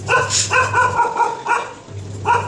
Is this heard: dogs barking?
yes